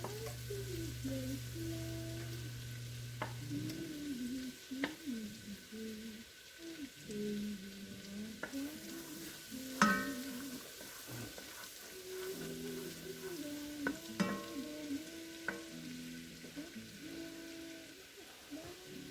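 Julienned white onion sizzling in a pan, a soft steady fry heard under background music with occasional light clatter, fairly quiet and continuous.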